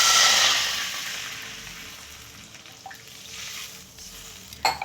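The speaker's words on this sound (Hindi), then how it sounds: "अब इसमें हम डालेंगे 1 गिलास पानी।" A glass of water is poured into a hot wok, setting off a loud hiss and sizzle at first that fades to a soft simmer, with a faint clink near the end.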